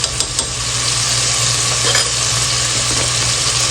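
Chicken keema with red chilli, turmeric and fennel powder being stirred in a hot pan, a steady close sizzle with scraping spoon strokes, a few sharper clinks near the start.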